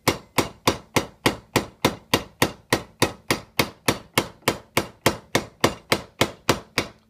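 A grooving tool worked freehand on copper sheet for a kinetic wind sculpture, delivering about twenty evenly spaced, sharp metallic strikes at a steady rhythm, close and loud, with no talking.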